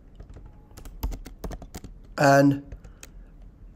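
Computer keyboard typing at a steady pace, clicks sounding close and fairly clear, with a short burst of louder noise midway and someone speaking briefly over the keys.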